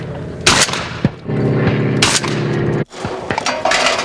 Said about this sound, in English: Competition shooting is Jim Porter's life